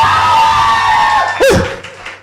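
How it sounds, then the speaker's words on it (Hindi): A church congregation at a Christian sermon on the message of the cross gives a short, loud burst of crowd cheering and shouting, with voices rising sharply midway. "बताइए कोई है तो जोरदार ताली बजाकर"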